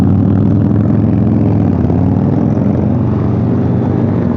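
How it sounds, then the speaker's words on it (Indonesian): A Harley-Davidson Forty-Eight motorcycle exhaust rumbling loud and steady, a deep throbbing engine note close by with no talk. "Sangat menggelegar sekali ya bunyi knalpotnya 48 yang dipakai Dennis ini."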